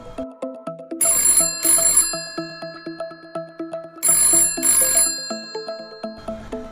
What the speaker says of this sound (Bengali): পরাশর উত্তর দেবার আগেই ফোন বেজে উঠল।